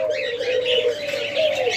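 Crested doves at a large bird farm coo steadily in a smooth, continuous call, heard close and alone with no voices.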